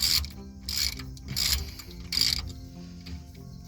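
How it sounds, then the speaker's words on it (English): A ratcheting torque wrench clicks in short bursts while tightening differential cover bolts on an 8.8 axle of an older Ford F-150, several close, sharp ratchet runs with brief pauses between them. "Handy dandy torque wrench"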